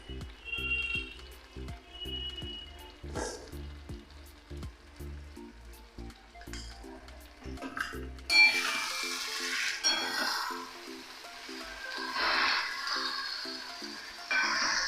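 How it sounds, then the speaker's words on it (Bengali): A fish head is fried and stirred in a thick spiced masala in a pan, giving a bright crackling sizzle with stirring scrapes that starts after a stretch of quiet background music and ticking. "এবার আমি মাছের মাথাটা এই কষানো মশলার মধ্যে দিয়ে দিচ্ছি, কারণ যাতে মাথাটা ভালো মতো এটার সাথে কষে।"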